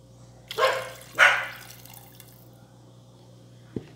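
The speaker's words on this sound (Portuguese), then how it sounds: "Gente, olha os cachorros. Misericórdia desses cachorros." Two short, faint dog barks ring out in quick succession from a distance, followed by quiet and a single soft knock.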